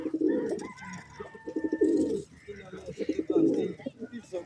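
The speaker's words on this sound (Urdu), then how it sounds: "موقع آگئے کبوتر" Fancy pigeons coo in repeated throaty rolling phrases, close and clear, while someone talks quietly in the background.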